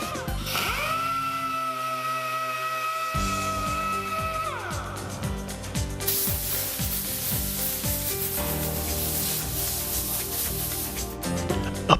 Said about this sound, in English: Remove the paint surrounding the damage with a DA sander and 180 grit sandpaper.